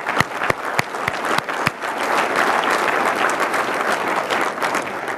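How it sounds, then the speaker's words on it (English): Audience applause at a mayor's State of the City address, starting with a few sharp separate claps before swelling into dense, sustained clapping from a large room. "let's give them a round of applause,"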